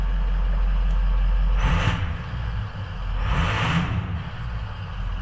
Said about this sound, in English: Kind of let you hear this exhaust out here a little bit.